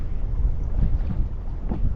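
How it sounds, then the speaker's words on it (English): Wind gusting across a fishing boat on the open water at Shark Bay, a steady low rumble with rising and falling buffeting against the microphone, continuous for the whole stretch with no voices. "That wind is sort of just picking up a little bit"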